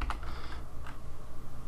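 Keystrokes on a computer keyboard entering a value into a 3D floor-plan drawing program, a few close, quick clicks in a short burst with no talk over them.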